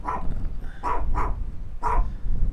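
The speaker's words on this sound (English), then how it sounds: "I've got a yappy dog." A small yappy dog barks at an Airbnb on Madeira, letting out four short, fairly close barks over a low background rumble.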